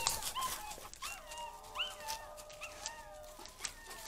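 Several hunting dogs pass by in the open, whimpering, yipping and barking in overlapping bursts, some nearer and some farther off, against faint outdoor background noise.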